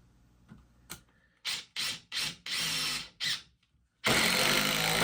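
A Dewalt DCF850 impact driver sinks a screw into a super-dense block of pallet wood from China, sounding as a string of short, loud whirring bursts that lengthen into rattling impacts, then a final sustained hammering burst close up.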